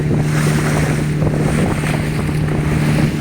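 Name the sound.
fishing harbour with boats and waves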